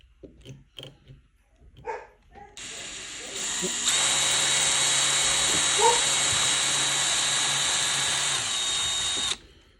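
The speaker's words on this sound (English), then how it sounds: "pop this there and then run this drill" A power drill whirs steadily for several seconds at close range while building a scale-model security gate, after a few brief knocks and voices, with a dog barking once mid-run.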